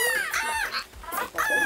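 Chickens in the Pizza Possum game cluck in several close, loud squawking bursts separated by short pauses.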